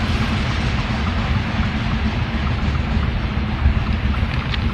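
A train passing near Plungė, Lithuania, caught while cycling alongside: a steady, loud low rumble runs through the whole stretch, mixed with rushing wind noise, and no one talks.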